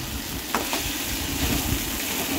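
Snail meat (gugli) is stir-fried in a pan over a low flame, giving a steady, close sizzle with faint scraping of a spatula throughout.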